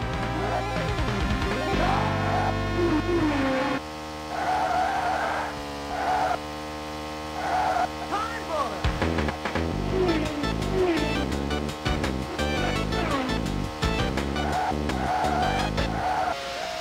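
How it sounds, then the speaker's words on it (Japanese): A car drifting through tight corners in the 1994 Sega game Virtua Racing Deluxe, with a steady synthetic engine tone, repeated squealing tire skids and electronic game music, no speech. "タイトなコーナーをドリフトで駆け抜けろ"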